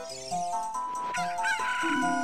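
A rooster crows in The Legend of Zelda: Ocarina of Time, one drawn-out, bright cock-a-doodle-doo, loud and close, with no talk over it.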